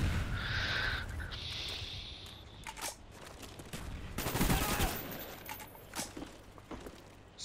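AK rifle fire in the video game Black Ops crackles in bursts and scattered single shots amid in-game ambience, with a game alert tone early on and gunfire at mid distance.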